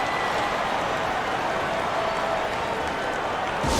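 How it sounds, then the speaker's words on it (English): Basketball arena crowd at a WNBA Finals game between the Phoenix Mercury and Los Angeles Sparks applauds and cheers in a dense, continuous wash of noise during a timeout, loud and sustained throughout. "Fans, please give a big round of applause for you,"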